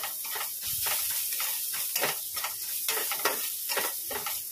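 Onions frying in hot oil until reddish, a close, bright, hissing sizzle with rhythmic stirring strokes every second or so, steady throughout with no talking.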